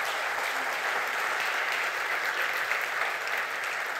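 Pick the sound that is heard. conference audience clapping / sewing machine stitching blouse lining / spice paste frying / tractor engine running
conference audience clapping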